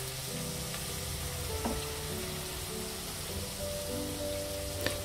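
Tortillas frying in hot oil for chilaquiles, giving a steady, dense sizzle that runs unbroken throughout, with a few faint clinks on top.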